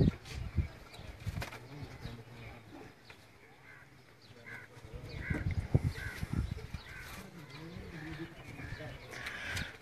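Pigeons held and handled at a pigeon keepers' gathering give soft flutters and faint calls, mostly masked by people talking nearby.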